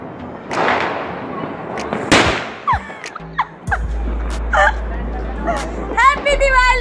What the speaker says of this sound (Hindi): नए वाला पटाखा।